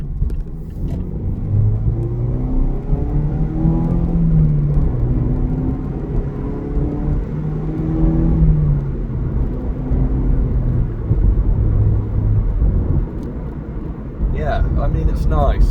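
A Mazda MX5 sports car with a 2-litre engine accelerates hard through successive gear changes, its loud, steady engine drone rising in pitch and dropping at each shift, with a voice talking over it.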